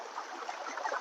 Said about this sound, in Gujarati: જોઈ શકો છો પાણી આવે છે